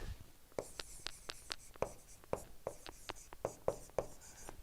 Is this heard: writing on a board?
yes